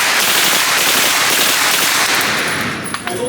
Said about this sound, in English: all you gotta do is just shoot it. So it's called an open bolt